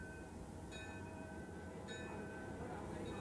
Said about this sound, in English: A ride on the miniature model steam train is popular with the kids